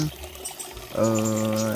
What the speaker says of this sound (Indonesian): hal yang wajar ya kalau misalkan kucuran airnya kencang ya teman-teman